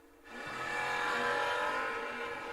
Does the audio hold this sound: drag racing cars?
yes